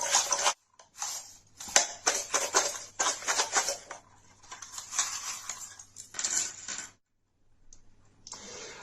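Tarot cards handled and shuffled in a quiet room, giving bursts of papery riffling and soft slapping that start and stop irregularly, close and fairly faint, with brief silent pauses.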